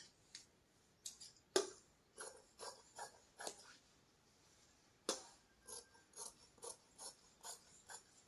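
Scissors cut straight into katori blouse fabric to shape the back piece, making crisp, close snips in irregular clusters with quiet gaps between them and no voices.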